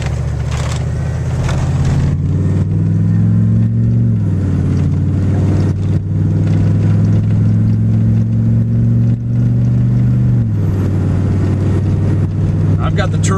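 A 6.5 diesel truck fitted with an HX35 turbo pulls away from a standstill, a loud droning engine note climbing through gear changes, with a person talking over it.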